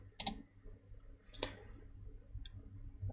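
A computer mouse clicks on a website home page: two sharp, isolated clicks about a second apart, close and crisp in a quiet room, followed by a fainter tick.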